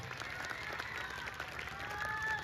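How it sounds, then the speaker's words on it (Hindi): An audience applauds a dance troupe from Jabalpur after a dance-drama performance. The clapping is faint and distant, with a thin murmur of voices. "एक बार जोरदार तालियां पूरी टीम के लिए।"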